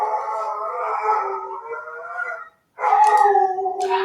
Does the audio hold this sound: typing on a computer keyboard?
no